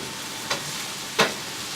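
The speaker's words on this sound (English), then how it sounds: "sauteed zucchini and yellow squash with the onions and the garlic. Okay, and you just want to give it a quick stir" Zucchini and yellow squash sauté with onions and garlic under a steady soft sizzle, broken by two brief scraping stirs, the second louder, with no voices.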